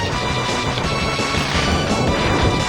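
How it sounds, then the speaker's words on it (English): Glass shatters in a dense, continuous crash after a loud explosion in the Mega Man X video game, a sustained burst of breaking debris filling the whole moment. "Like it just destroys all the glass from the loud explosion."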